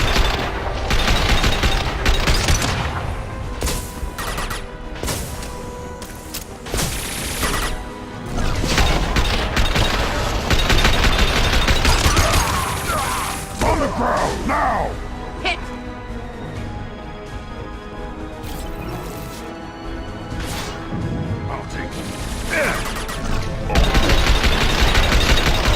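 Dense gunfire rattles almost nonstop in a Mass Effect 2 firefight, with heavy bursts, crashing impacts and booming hits that may include an exploding crate, loud and continuous throughout.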